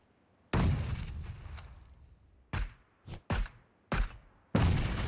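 Grenade explosions in a battle royale video game, five heavy booming blasts in quick succession, each a loud broadband burst with a short decaying rumble.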